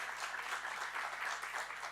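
Audience applause following a talk on Spanish travellers in the USSR, a steady dense wash of clapping from a seated crowd, moderately loud and continuous for the whole stretch with no voices over it.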